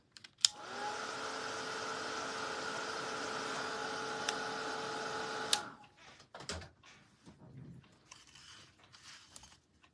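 A hair dryer drying paint on a vintage pant hanger runs with a steady whirring blow for about five seconds, then clicks off, leaving faint handling noises in a quiet room.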